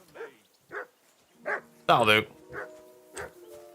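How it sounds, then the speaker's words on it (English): A dog in Kingdom Come: Deliverance 2 gives a string of short, irregular barks and yips at moderate distance, with someone speaking briefly between them. "Flipping heck you barking at, dog?"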